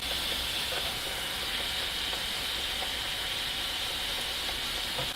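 Puri deep-frying in hot oil gives a steady, dense sizzling hiss that stays even and fairly loud throughout, close up with no pauses and no voices.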